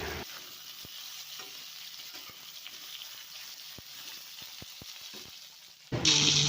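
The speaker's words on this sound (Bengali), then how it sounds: "এটা নাড়াচাড়া করে হালকা করে ভেজে নেব।" Cut potatoes and eggplant stirred and lightly fried in a pan, a steady sizzle broken by repeated spatula scrapes and taps, ending in a sudden louder hiss.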